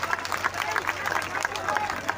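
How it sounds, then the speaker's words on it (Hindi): Dense crowd applause at an outdoor rally in Jind backing wrestlers, continuous clapping throughout. "जोरदार तालियां इनके लिए।"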